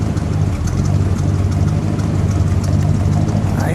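A 1966 Dodge Monaco 500 hardtop with a 383 V8 idles steadily at the exhaust, a deep, even rumble with a slight lope, close and continuous with no talking.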